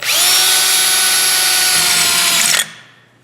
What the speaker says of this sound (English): Step drills are sweet in sheet metal. Center punch, drill.